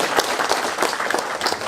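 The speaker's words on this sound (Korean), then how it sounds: "다시 한번 축하의 박수 보내주십시오" A hall audience applauds a special prize winner at a peace prize ceremony, steady dense clapping throughout the short stretch.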